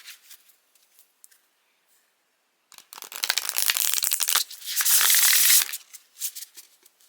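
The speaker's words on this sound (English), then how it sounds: "So just to give you a little shuffle." A Woodland Wardens oracle deck of firm, floppy card stock is shuffled close up, with loud bursts of riffling and rustling after a quiet start, then a few softer card sounds.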